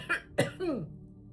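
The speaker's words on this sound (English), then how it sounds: "Confirmation cough." A person coughs two or three times in quick succession, close and moderately loud, ending in a short throaty trailing sound.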